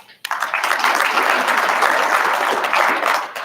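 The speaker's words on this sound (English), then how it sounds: "So if we could all just give everybody a big round of applause." An audience at a university address breaks into applause for university staff. The clapping starts abruptly, stays dense and loud for about three seconds, then tapers off near the end.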